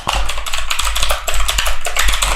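Code being typed on a computer keyboard, with rapid, loud, close keystrokes clattering in a dense continuous run and no speech.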